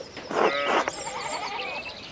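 A sheep in the video game Pentiment gives a single wavering bleat lasting under a second, close and clear, followed by softer chiming game sounds.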